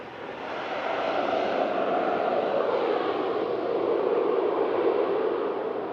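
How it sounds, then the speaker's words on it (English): An EasyJet airliner lines up on the runway at Manchester Airport, bound for Berlin, its engines giving a steady distant broadband roar that swells slightly, with no talk over it. "All right, lining up. EasyJet to Berlin."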